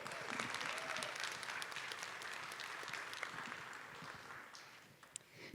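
Clapping from a film festival audience for a panelist, a steady wash of many hands applauding throughout, fairly distant and soft, with a few sharper individual claps standing out.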